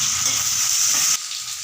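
Curry leaves, onion, garlic and green chilli sauté in a pan for Tamil vatthal kuzhambu, a steady close sizzle that drops abruptly softer near the end, with no voices.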